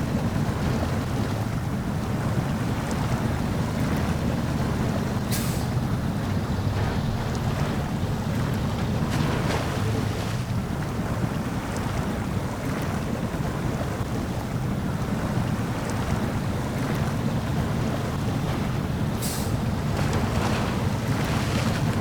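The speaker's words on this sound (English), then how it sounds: "this water makes a lot of noise when you're driving through it" A Fleetstar truck ploughs through water in SnowRunner near Smithville Dam, producing a loud, steady rush of churning, sloshing water with engine rumble underneath, continuous throughout and with no voices.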